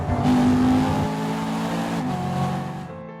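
A new BMW M3's engine revs loud and close, a sustained throaty drone that climbs and then eases into a steadier note with no voices over it.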